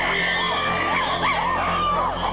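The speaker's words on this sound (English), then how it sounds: "To intimidate their opponents, the aggressors scream and drum on buttress roots." Primates in a group attack, a close chorus of rising and falling screams and whoops, wavering repeatedly over a steady background with speech-like voices mixed in.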